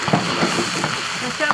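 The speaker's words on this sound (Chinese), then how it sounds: "再下入这个肥肉，把油炒出来，油炒出来，下入瘦肉" Pork fat and lean pork stir-fry in a wok with a steady, close sizzle and spatula scrapes and stirs. A voice speaks faintly underneath.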